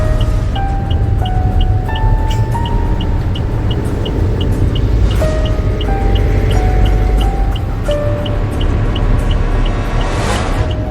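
Heavy, jammed road traffic full of trucks on a rain-wet single road: a loud, constant engine rumble with repeated horn honks of different pitches sounding near and farther off.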